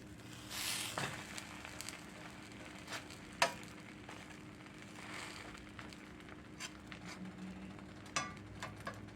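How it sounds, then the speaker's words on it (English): Soft crackling sizzle of bologna frying in a skillet, with a few sharp spatula scrapes and clicks scattered throughout. "when you're frying meat like this"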